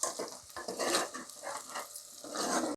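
Green chillies and onions sauté in a pan over a medium flame for mutton kurma, a steady close sizzle broken by stirring scrapes, with no voices.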